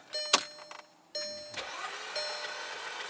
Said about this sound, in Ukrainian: Мотор крутиться в пустоту.